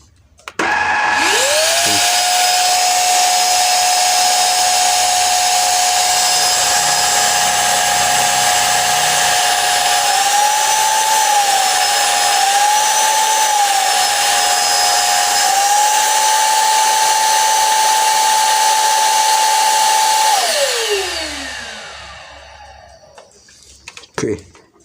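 A Bolde Aqua Hoover cordless battery vacuum cleaner switches on and runs with a loud, steady high-pitched whir that wobbles slightly in pitch midway, then winds down and stops near the end.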